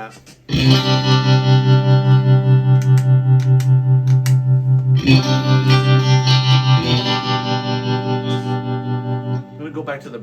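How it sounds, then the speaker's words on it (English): Fesley budget electric guitar with tremolo effect, distorted chords pulsing in a steady rapid throb, struck three times with long sustain, loud and close. "I'm gonna put a little tremolo on it."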